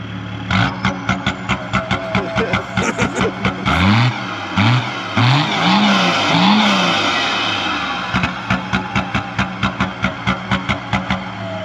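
A BMW E36 325 TDS diesel with 2.0 bar boost idles in a lumpy, rapid pulsing rhythm, then revs up and down in several rising and falling sweeps before settling back to the loud, close, chattering idle.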